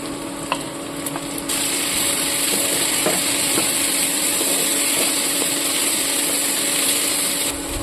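Ginger-garlic paste, grated rather than finely ground, frying in a hot pan for a Bengali mutton kasha curry, a loud steady sizzle with brief stirring clatter at the start.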